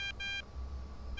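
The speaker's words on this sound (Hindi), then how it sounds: "पापा का फोन आ गया" Phone call notification in the Thief Simulator video game: a bright electronic tone pulses on and off in short bursts over a low, rumbling background hum.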